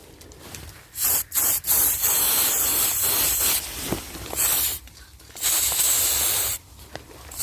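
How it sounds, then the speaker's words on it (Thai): Spray paint hissing from an aerosol can while marking trees outdoors in rural Italian countryside, several loud bursts of steady hiss separated by short pauses, near and alone with no talk. "ก็ฉีดไปเลยนะครับนะครับ"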